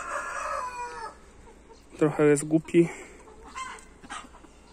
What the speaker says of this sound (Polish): Biały kogut szuka nowego domu.